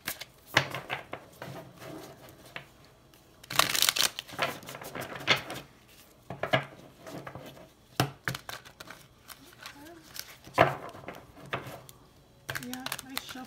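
Black Tarot deck cards being shuffled by hand, bursts of papery riffling and soft slaps in irregular clusters with quiet gaps between, close and fairly faint.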